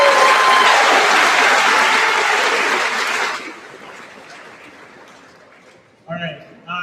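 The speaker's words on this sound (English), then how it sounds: "Let's give a round of applause for Mr. Harris." An audience at a graduation ceremony applauds a speaker, loud and dense clapping for about three seconds that then tapers off, with a voice speaking briefly at the end.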